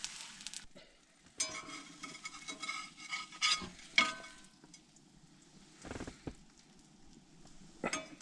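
Egg frying in a pan at a truck campsite, a soft continuous sizzle with a few brief clinks and scrapes of a utensil against the pan, fairly quiet and close.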